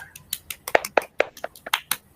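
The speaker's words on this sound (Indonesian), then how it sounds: "tepuk tangan buat kelompok 1" A small group of schoolchildren claps for a class group in an online lesson, giving sharp, irregular claps that are close and fairly loud with no talking.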